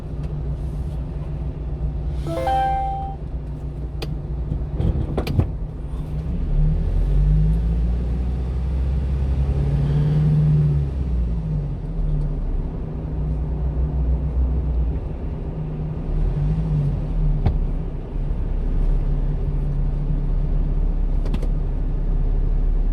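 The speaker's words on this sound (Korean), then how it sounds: "버스들도 많이 들어오네요" Busy road traffic at a frequently icy section on a cold day, buses pulling in with engines swelling and revving as they pass, over a constant low rumble of cars, close and loud.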